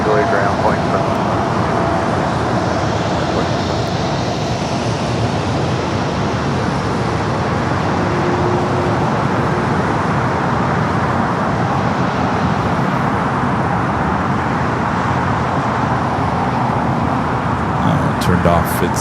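A United 737 MAX 9 airliner sits at LAX before a south side takeoff, its steady jet engine roar blending with broad airport and roadway rumble, loud and continuous throughout with a voice talking over it.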